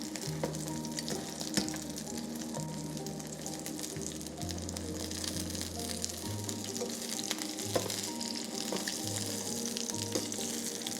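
A steak sears in a hot pan with a continuous, moderately quiet sizzle and frying crackle, with occasional light scrapes and faint background tones, and no talking.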